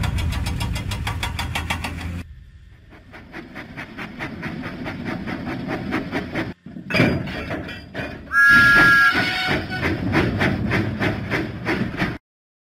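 Thomas the Tank Engine from a Thomas and Friends video game puffs and chuffs in a steady rhythmic beat, pausing briefly and then starting again, with a whistle-like tone sounding midway, loud and close.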